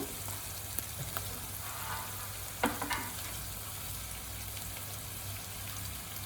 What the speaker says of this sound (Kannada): ಈರುಳ್ಳಿ ಎಲ್ಲ ಉಪ್ಪಲ್ಲಿ ಸ್ವಲ್ಪ ಬೇಯಲಿ.